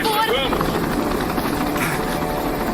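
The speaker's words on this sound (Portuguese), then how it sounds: "O helicóptero está sobrecarregado." An overloaded helicopter drones loudly and steadily with engine and rotor noise filling the whole stretch, while voices talk urgently over it.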